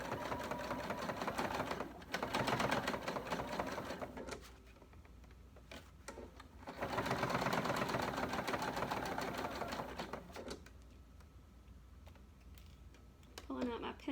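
Sewing machine stitching a t-shirt into a pillow, running in two steady bursts of rapid mechanical whirring with quieter pauses between, close and clear.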